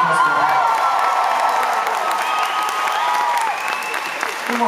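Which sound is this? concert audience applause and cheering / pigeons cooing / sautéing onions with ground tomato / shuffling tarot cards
concert audience applause and cheering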